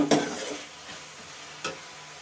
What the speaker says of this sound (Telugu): తగినంత అల్లం పేస్ట్ బాగా మగ్గబెట్టుకుందాం ఉల్లిపాయలు అల్లం పేస్ట్